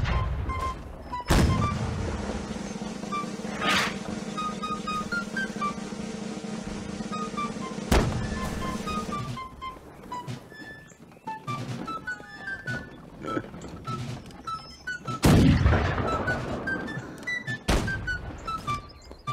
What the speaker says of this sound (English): Keep firing the cannons!